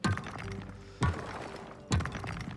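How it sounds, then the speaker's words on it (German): Rocks bursting apart in the farming game Coral Island, three sharp cracking thumps about a second apart over a busy layer of game sound. "Weil jetzt gerade die ganzen Steine hier explodieren."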